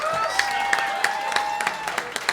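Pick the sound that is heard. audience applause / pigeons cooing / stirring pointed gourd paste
audience applause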